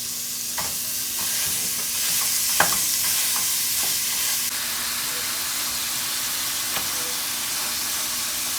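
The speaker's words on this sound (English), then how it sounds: "I got my ground beef already cooking." Ground beef sizzles and fries in a pan on a home stove, with a steady hiss and a few sharp clicks and scrapes of stirring near the start, staying fairly even and close throughout.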